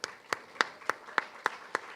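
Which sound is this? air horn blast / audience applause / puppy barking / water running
audience applause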